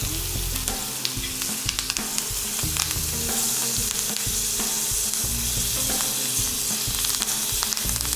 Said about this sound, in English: Now I'm going to actually start basting it with some butter and herbs.